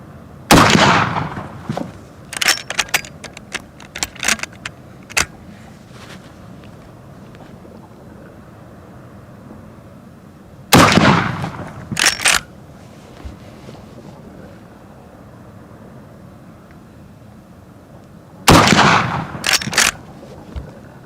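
Rossi R92 lever-action rifle in .44 Magnum with a 16-inch barrel firing at a 50-yard range: three loud clusters of sharp, close reports, each a strong first shot followed by several quicker, quieter follow-up cracks, separated by quiet gaps with light wind.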